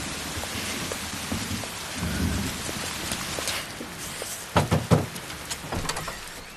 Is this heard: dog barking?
no